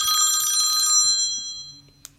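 A mobile phone rings with a bright, bell-like electronic tone in rapid repeated trills, loud and close, then cuts off into quiet room noise with a small click at the end.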